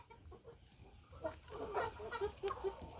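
Faverolles hens and roosters cluck softly in a small flock, with short, scattered calls building into a busier burst of clucking against faint, quiet background noise.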